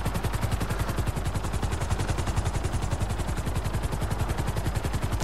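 A helicopter in the GTA 5 video game thunders with a loud, fast, steady rotor chop, with no voices over it.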